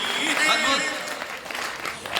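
Audience clapping at a Hindi comedic poetry recital, a dense burst of applause that mixes with a voice speaking over it across the short span.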